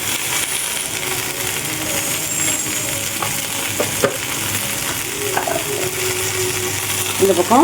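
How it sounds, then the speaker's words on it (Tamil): Okra sizzles steadily as it sautés in an iron pan for a spicy tamarind curry, with mustard seeds and roasted spices, under occasional stirring scrapes and a few brief spoken words. "வெண்டைக்காய் வதங்கிட்டு இருக்கு"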